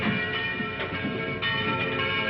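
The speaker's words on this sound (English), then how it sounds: "the bell that rang with no man alive to pull the rope" A church bell tolls in a film scene, its rich ringing strokes repeating in a slow rhythm and sustaining over a dense, reverberant wash, moderately loud with no voices.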